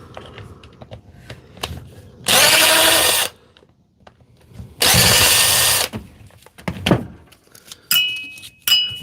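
Milwaukee M12 cordless power tool on a 4.0 M12 battery, driving a Dewalt 12 volt old model, runs loud in two bursts of about a second each, with clicks and handling noises between and a short whine near the end.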